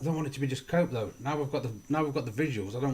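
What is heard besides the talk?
No distinct noise like a dog, phone or traffic.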